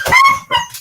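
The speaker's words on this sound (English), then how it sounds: "That's a dog." A dog lets out two quick, loud, close barks in succession, sharp and slightly whiny, with a faint third yelp at the end and no talking.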